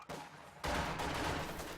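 An MG34 machine gun in a strategy video game fires a sustained burst at conscripts, a dense rattle of gunfire that swells after a quieter start and holds steady, heard faintly at a distance.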